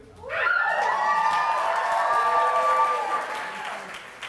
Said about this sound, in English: judging from the last 2 seconds, you really like clapping